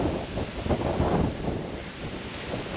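Strong wind gusts sweep across open moorland the day after a storm, a loud, continuous roaring and buffeting close on the microphone with no pauses.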